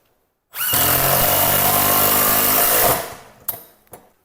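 A power drill drives screws through a wall bracket into studs to mount a retractable extension cord reel. One loud, steady whir lasts about two and a half seconds and ends with a couple of short clicks.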